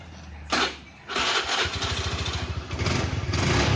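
A customer's motorcycle in a repair shop, brought in because it bogs and stumbles on acceleration with a suspected fuel pump fault, cranks with a short burst, then catches and runs with a close, rapid, pulsing idle that grows steadily louder.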